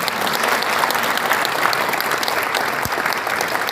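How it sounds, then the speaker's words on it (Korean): A gathered audience gives sustained applause of thanks to a panel of speakers at a Korean lecture event; thick, even clapping continues throughout, close and fairly loud, without voices. "감사의 박수를 보내주십니다"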